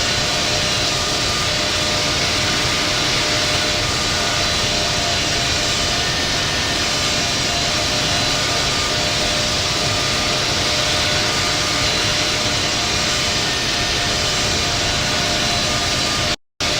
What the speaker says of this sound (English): Charlie Whiskey is taking off runway 25 right